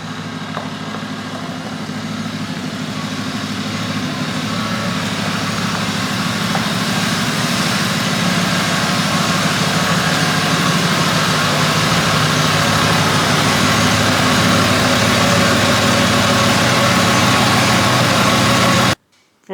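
A 1990 Ford F-150 Lariat pickup sits idling roughly with a fast idle, giving off a continuous low engine drone close by that stops abruptly at the very end.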